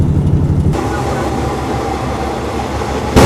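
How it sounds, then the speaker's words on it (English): A special express sleeper train runs through Thailand with a loud, steady rumble of wheels on rails and carriage noise, close and continuous, a sharp change at the start and a thump near the end. "So this was a great train ride."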